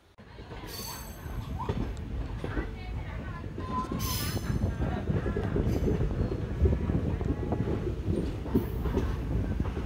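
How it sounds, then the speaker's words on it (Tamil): The Guruvayur–Madurai express pulls out of Tirunelveli Junction with a rising rumble of rolling wheels, rhythmic clatter and occasional squeals of metal on rail, growing louder and steadier as it gathers speed. "கரெக்டாக 1:50க்கு நம்ம வண்டி வந்து டிபார்ட் ஆயிடுச்சுங்க திருநெல்வேலி ஜங்ஷன்லேருந்து"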